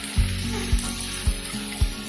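Fried dahi vadas are dropped one by one into a bowl of water, making four soft, low plops at an even pace, with a steady background hiss.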